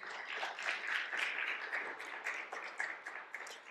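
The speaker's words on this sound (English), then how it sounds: "One more round of applause for Brian." Audience applause for a poetry reader at a county recitation event, a steady wash of many hands clapping throughout, fairly even in loudness with no voices.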